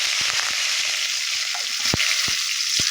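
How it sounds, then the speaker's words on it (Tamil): Mustard seeds and urad dal sizzle in hot oil while tempering, a steady frying hiss broken by sharp little pops and crackles from the seeds. "கடுகு, உளுந்தம்பருப்பு போட்டு தாளிச்சிக்கணும்."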